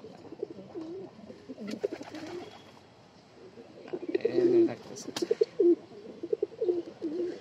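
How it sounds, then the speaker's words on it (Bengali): Domestic pigeons coo in a soft, repeated rhythm close by, with several overlapping calls that rise and fall over the whole stretch and grow busier toward the end. "কি সুন্দর ডাকতেছে, কি সুন্দর ডাকটা আছে।"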